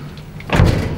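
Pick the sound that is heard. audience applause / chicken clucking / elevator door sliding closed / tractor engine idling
elevator door sliding closed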